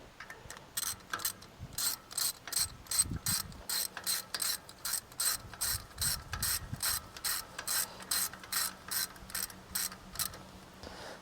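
Bolts on an old Ford backhoe are snugged up with a ratchet, giving rapid, regular clicking bursts in a steady rhythm, close by and fairly quiet, with faint clunks in between.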